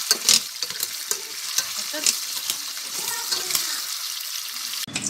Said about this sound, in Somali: digaaga saara inaan ku shiilo